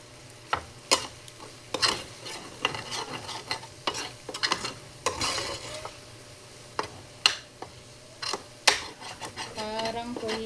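Lunch cooks in a pan as a utensil stirs food seasoned with pepper, giving repeated sharp scrapes and clinks against the pan over a quiet background sizzle at an uneven rhythm.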